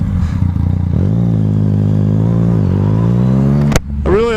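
A Suzuki SV650S or Yamaha FZ-09 motorcycle on the move, its engine holding a loud, steady, torquey note close to the mic, with a sharp knock and a brief rev change near the end.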